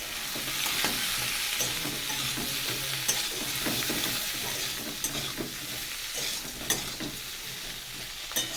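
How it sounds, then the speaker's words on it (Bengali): Garlic, ginger and chili fry in oil with a steady, close crackling sizzle, while a spatula scrapes and stirs in irregular bursts throughout, with no voices. "রসুন আদা লঙ্কা ভেজে নেব"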